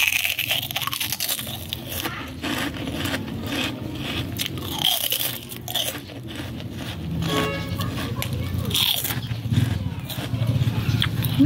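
Crunchy snack being bitten and chewed up close, with repeated crisp crunches and munching that carry on steadily throughout.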